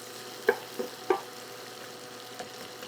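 Onion and poblano pepper strips frying in a pan for a creamy poblano chicken dish, with a faint steady sizzle broken by a few sharp stirring scrapes and clacks.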